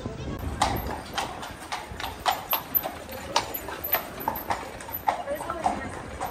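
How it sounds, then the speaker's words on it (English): Horse hooves clip-clop steadily on the cobbled streets of Bruges, Belgium, as a horse and carriage passes close by, with people talking underneath. "Horse and carriage."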